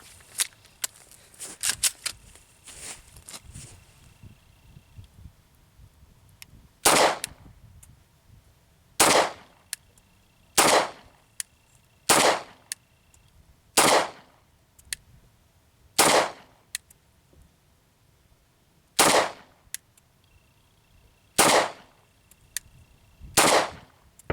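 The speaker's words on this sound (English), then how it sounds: "I'm shooting a little bit low with it, so try to get the hang of it." Single shots from a CZ P-07 pistol ring out at spaced intervals, about a dozen sharp loud reports at an outdoor range, with some rapid clattering bursts at the start.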